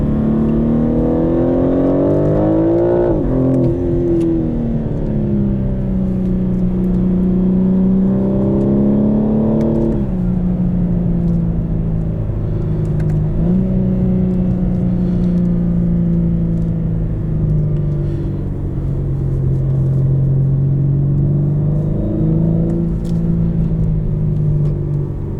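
A 2021 BMW M4 Competition RWD with an automatic gearbox pulls hard from inside the cabin, a loud, continuous engine drone that climbs in pitch, drops at each upshift and climbs again.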